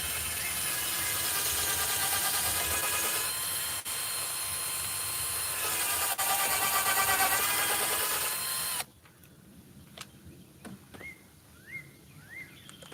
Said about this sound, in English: Kind of drill at an angle.